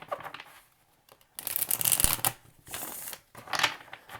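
Tarot cards riffle and flutter in a few quick bursts, crisp and close, with short quiet gaps between each shuffle.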